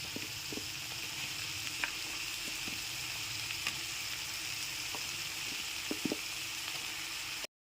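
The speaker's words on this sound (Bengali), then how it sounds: "লবণটা মিশিয়ে নেবার পর এর মধ্যে কেটে রাখা মাশরুমগুলোকে দিয়ে দিচ্ছি" Chopped mushrooms fry in butter and garlic, a faint, even sizzle running throughout with scattered small ticks and pops from the pan, no voices.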